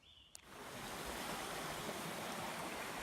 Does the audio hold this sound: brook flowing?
yes